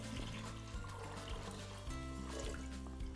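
Water pours steadily into a pot of overnight-soaked chickpeas and kidney beans, making a continuous close trickle that sounds muffled and low, with no voices over it.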